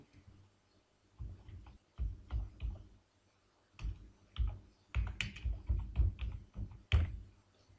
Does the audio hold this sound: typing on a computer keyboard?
yes